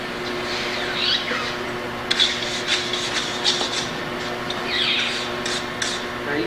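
Scrubbing rust off a cast spoke wheel, repeated scratchy rasping strokes in uneven bursts, close and fairly loud, with no talk.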